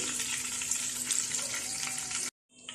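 Shrimp and chicken pieces fry in hot oil for a salad, a steady, dense sizzle that holds close and even before cutting off abruptly, followed by a faint return of softer sizzling.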